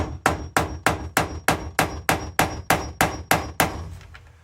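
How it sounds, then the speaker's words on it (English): A hammer drives a screw extractor into a stripped screw with eleven evenly spaced sharp metallic strikes, close and crisp, each fading quickly before the next. "gonna hammer this one in, see if I can get some good grip on it"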